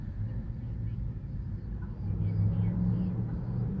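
A car speeds by on a road, a steady low engine rumble that swells a little toward the end and stays fairly close throughout.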